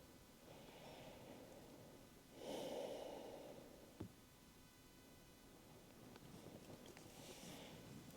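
Slow, steady breathing during a hatha yoga pose, soft airy inhales and exhales with one stronger exhale midway and a brief click, close and quiet with no talk.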